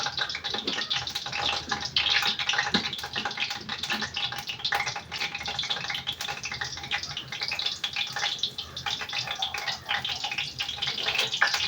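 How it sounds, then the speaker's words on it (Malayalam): Coconut oil heats in an iron pan and bubbles with a faint, steady crackle and sizzle. Small clicks and scrapes come through at intervals, and no one talks. "അങ്ങനെ നമ്മളെ വെളിച്ചെണ്ണ പെതുക്കെ തിളയ്ക്കുന്നു"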